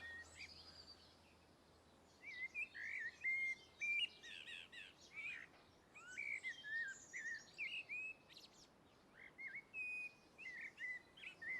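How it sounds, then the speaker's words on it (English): Several birds sing and chirp in a garden at midsummer, bright repeated phrases from about two seconds onward over a quiet outdoor background, with no talk. "if ever there was a moment to sit in your garden and listen to the birds"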